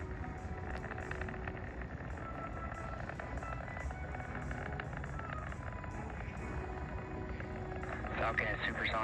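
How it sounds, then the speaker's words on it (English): A SpaceX Falcon 9 rocket launching from Cape Canaveral, Florida, carrying Starlink satellites, gives a faint, distant, steady crackling rumble. It continues for several seconds with a murmur of people in the background. "What you're hearing is actually SpaceX at the Cape."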